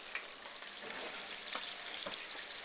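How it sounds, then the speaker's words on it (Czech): Duck breast sizzles in a pan with rosemary, a steady, soft frying hiss with occasional small crackles and pops, close and alone without talk. "Necháme to smažit cca 1 minutu na každou stranu"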